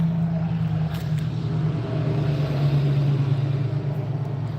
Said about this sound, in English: gotta love all the big trucks that roll through here